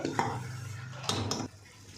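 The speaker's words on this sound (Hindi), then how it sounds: "और अब अच्छे से भुनाई कर लेते हैं पहले मसालों की" Spices being stirred and roasted with a splash of water in a pan for aloo matar keema: two scraping, clattering stirs close by over a low sizzle, then quiet.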